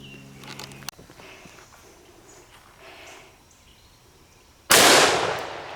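A rifle round slams into a plate made from recycled milk jugs, landing as one sharp, loud crack near the end after quiet outdoor rustling and a brief knock.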